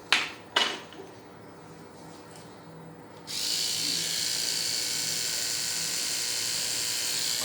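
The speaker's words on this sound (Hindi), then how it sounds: "इलेक्ट्रिक ब्रश को कैसे इस्तेमाल करना है आपको" An electric toothbrush switches on after a couple of sharp knocks and then buzzes steadily and fairly loudly at close range for several seconds, with no talking over it.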